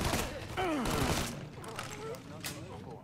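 Bursts of gunfire in the video game Mafia III crackle in quick succession alongside a voice, with sharp noisy hits scattered through a busy, loud mix.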